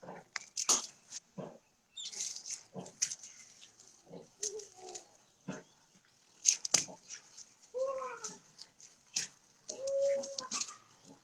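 Several dogs bark in short, repeated bursts during bite and tug training, some near and some farther off, with a person talking between the barks.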